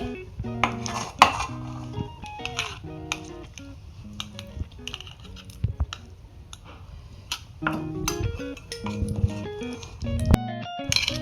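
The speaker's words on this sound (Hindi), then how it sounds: "हमें इसे दूसरी चम्मच से इस तरीके से शेप दे दूंगी कटोरी के अंदर" A spoon shapes crunchy peanut chikki inside a small steel bowl, giving repeated close metallic scrapes, taps and clinks at an uneven rhythm with no talking.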